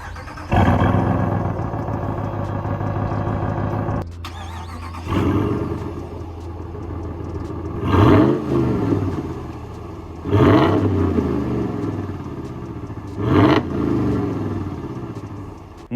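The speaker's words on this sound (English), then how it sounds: "I am gonna go ahead and start this truck up, and you're gonna see how nice it sounds" A 2022 Ram 1500 Rebel GT with a 5.7-liter Hemi V8 and passive cold-end exhaust starts with a loud rumble, then settles into a deep idle broken by several sharp revs.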